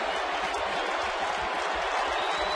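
Baseball stadium crowd at a Red Sox versus Yankees game cheers and claps late in the eighth inning, a dense steady roar filling the space.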